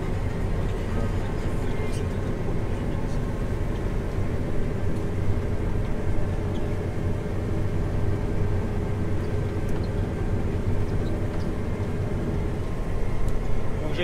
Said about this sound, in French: on est là avec la moisseuse batteuse classe Lexion 5400